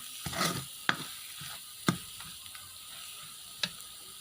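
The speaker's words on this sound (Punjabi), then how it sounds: "ਥੋੜੀ ਜਿਹੀ ਕਸੂਰੀ ਮੇਥੀ ਇਸ ਨੂੰ ਵੀ 5 ਮਿੰਟ ਲਈ ਵਿੱਚ ਐਡ ਕਰਕੇ ਭੁੰਨ ਲੈਂਦੇ ਆ" Spices and dried fenugreek leaves roast in a pan for palak paneer, with a soft low sizzle under a few distinct scraping stirs and clinks of a spoon against the pan, close and fairly quiet.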